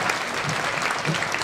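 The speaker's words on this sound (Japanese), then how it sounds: "最後一度両者に大きな拍手を送りください。" Steady applause from a fight audience at a charity exhibition kickboxing event, a dense wash of clapping hands that carries on without a break for the whole moment.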